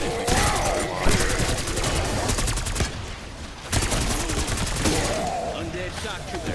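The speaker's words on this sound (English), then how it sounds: "Now it is important that we shoot his arm" Rapid automatic gunfire in Black Ops 6 Zombies, bursts of fast repeated shots aimed at a zombie's arm, loud and close, with a brief pause midway and game sounds in between.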